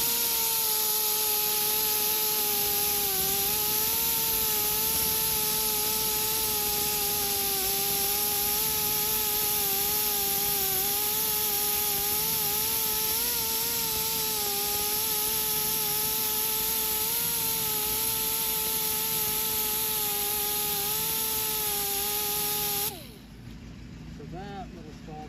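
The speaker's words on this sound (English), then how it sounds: "Definitely going to hit this with the conditioning disc on the grinder" An angle grinder fitted with a conditioning disc works a damaged alloy wheel, giving a steady, loud whining hum that holds an even pitch for over twenty seconds before cutting off abruptly near the end.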